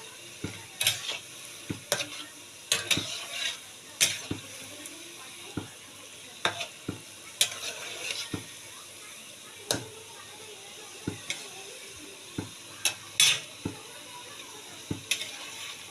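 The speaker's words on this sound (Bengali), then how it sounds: "অল্প আঁচের মধ্যে আমি ভেজে নিচ্ছি দেখুন ঠিক লালচে টাইপের যেমন ল্যাংচা হয় ওই টাইপের আমি লাল করে ভেজে নেবো" Sweet potato langcha fry slowly in oil over low heat, with a gentle continuous sizzle and many sharp clicks and taps of a utensil against the pan, irregularly spaced throughout.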